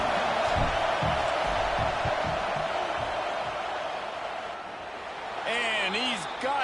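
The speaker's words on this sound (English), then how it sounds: "This crowd trying to do its part to get inside the kicker's head." Football stadium crowd roaring loudly and steadily as the field goal unit lines up for a long kick on fourth down, a dense wall of noise that dips slightly before swelling again, with whistles and shouts rising near the end.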